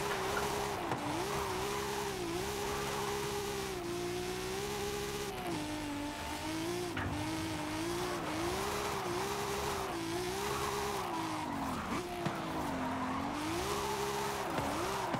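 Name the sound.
Nissan 200SX S14 drifting in video game Forza Horizon 5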